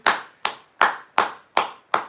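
Six sharp hand claps spaced about a third of a second apart, close and distinct, from a single person answering a call for applause during a livestream; no voices.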